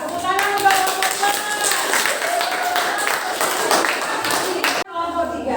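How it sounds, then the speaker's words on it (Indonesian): Schoolchildren clap for a group after its presentation in an Indonesian classroom, a dense, steady patter of many hands that goes on for several seconds with young voices mixed in, then cuts off sharply near the end. "tepuk tangan untuk kelompok 4"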